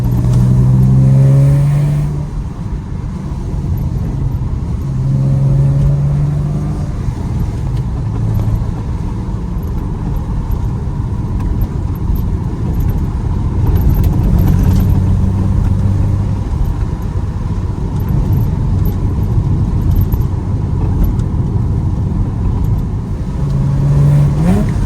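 A Porsche 986 Boxster engine drones steadily while driving, swelling in repeated revs as it accelerates through gears, loud and close for the whole stretch with no talking.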